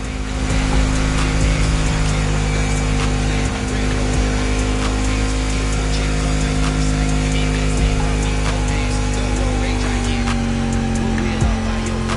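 Car engine from The Crew racing game, a donk with a buffed-up engine, droning steadily and loud throughout with sustained tonal hum and shifting pitch, alone without talk.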